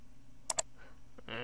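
Two quick, crisp mouse clicks land close together on a login button in Internet Explorer, followed by a short faint click and a burst of soft noise.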